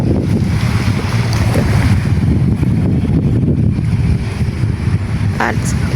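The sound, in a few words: wind blowing outdoors, wind noise on microphone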